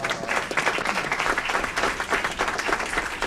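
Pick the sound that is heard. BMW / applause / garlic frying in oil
applause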